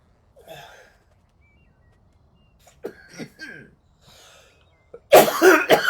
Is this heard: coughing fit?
yes